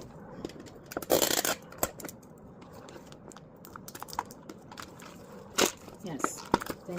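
Scissors snip Easter basket grass in a few quick bursts of crisp cutting and rustling, close and fairly loud, with scattered clicks between and a voice talking in the background.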